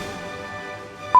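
A voice imitates the R2-D2 astromech droid from Star Wars, making two short, bright beeps at the very end after a steady tonal hum, close and fairly loud.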